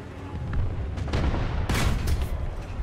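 Tank gun fire in War Thunder: a couple of deep, booming blasts with a sharp crack, the loudest landing near the end over a rumbling low backdrop.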